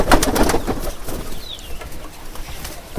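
Pigeons drinking water coo in low throaty bursts close by, mixed with rustling and a few brief fluttery sounds.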